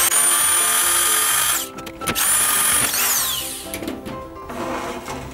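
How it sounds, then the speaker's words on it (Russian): Power drill fitted with a 6 mm bit boring through a pipe held in a homemade centre-finding clamp: a loud whining motor with an overtone, broken by brief stops and restarts and shifts in pitch as the bit bites into the metal. "Подбираем нужное нам отверстие и сверлим."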